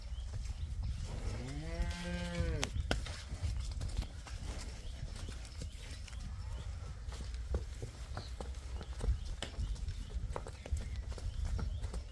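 On a farm with buffalo and cows for sale, a single loud, drawn-out moo rises and falls near the start. It is followed by scattered hoof clops and shuffling steps over a steady low background.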